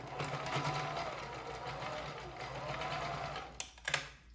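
A sewing machine stitches down a folded edge of a fabric face mask, its motor humming steadily and close for several seconds before a few brief clacks and handling knocks at the end.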